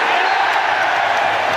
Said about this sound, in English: Rather ironic cheer greets the penalty